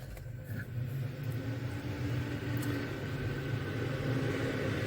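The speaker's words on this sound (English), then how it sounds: "school bus coming, and that sounds like a race car" A school bus passes on a street, a steady loud engine roar and road rumble that keeps up for the whole stretch without a break.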